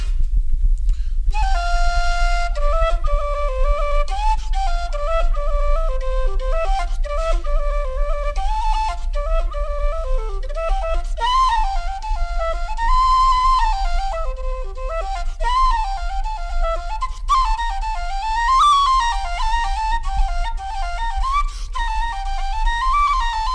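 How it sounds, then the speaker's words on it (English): Traditional pipe reels, Willie Murray's Reel and The Cockerel in the Creel, played on a whistle: a bright, ornamented melody runs nearly the whole time, starting after a brief pause, alone and fairly close. "The first of these is going to be called Willie Murray's Reel and the Cockerel in the Creel."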